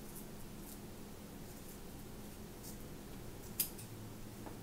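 Scissors cutting through attached Velcro strips: faint, quiet snips over a low steady background hum, ending in one sharp louder click near the end, with no talking.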